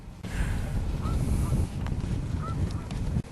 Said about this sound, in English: we've got the Canada geese